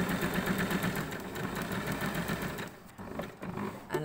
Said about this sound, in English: And then you just stitch, straight stitch from one end to the next, no reverse stitch.